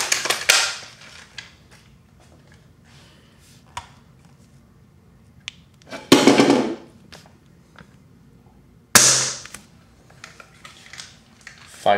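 VSR-10 airsoft rifle shooting BBs during velocity testing: three sharp, isolated snaps spaced several seconds apart, close and fairly loud, with quiet handling clicks and faint background noise between them.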